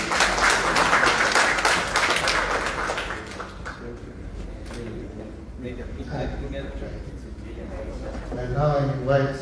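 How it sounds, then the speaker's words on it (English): An audience at an official ministry meeting with foreign delegations gives a burst of clapping that fades after a few seconds, followed by people talking nearby. "please give a round of applause to our visitors"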